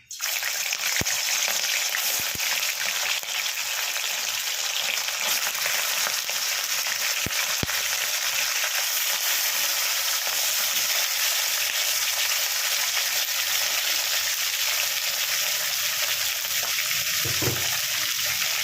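Chicken pieces for charsi chicken frying in hot oil over high heat, a loud steady sizzle and crackle that runs unbroken throughout, with a few brief clinks and stirring knocks and no talking.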